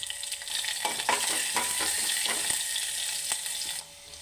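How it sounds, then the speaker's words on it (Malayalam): Garlic, ginger and green chillies sauté in a hot pan for a curd-based moru curry, with a steady close sizzle and a few scraping stirs before the sound drops off near the end. "ആ പച്ചമുളകും കൂടി ഇതിൻ്റെ കൂടിയിട്ട് നമുക്ക് ഒരുമിച്ചിട്ട് വഴറ്റാം."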